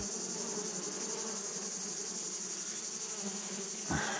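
A honeybee colony hums steadily at close range as the hive is opened and frames are inspected, a dense continuous buzz with a brief knock near the end.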